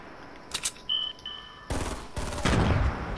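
Gunfire in the video game Fortnite, with short bursts followed by loud, rapid automatic fire building near the end, mixed with game beeps and effects.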